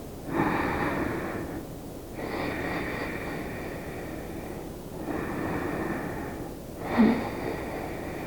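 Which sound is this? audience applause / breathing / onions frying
breathing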